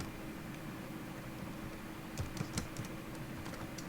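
Code is being typed on a computer keyboard, a faint cluster of quick keystroke clicks over a low room hiss, picking up in the second half.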